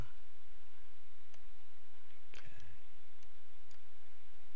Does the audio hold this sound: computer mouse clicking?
yes